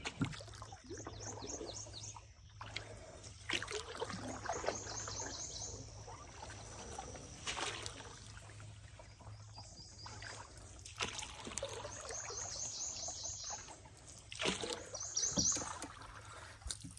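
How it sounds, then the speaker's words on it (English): A small boat being paddled upstream on a river while running limb hooks, soft irregular splashes and dribbling water from the strokes amid faint chirping birds, quiet and close. "I got a ways to paddle now before I get up there"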